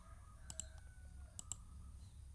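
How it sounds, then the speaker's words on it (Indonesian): Fingers tap a phone's on-screen keyboard while typing in Microsoft Word. Two pairs of faint, crisp clicks sound close together over a quiet room hum. "Nah, kita ketikkan fungsi."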